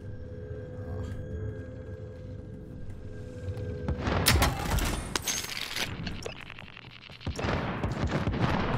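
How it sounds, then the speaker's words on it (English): Call of Duty Modern Warfare gunfire in the Plunder mode: after a quieter stretch, loud bursts of rapid shots and impacts crackle, pause briefly, then resume with more firing. "Oh, you're getting shot at."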